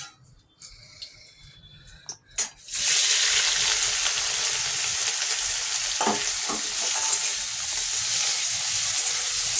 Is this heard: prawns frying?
yes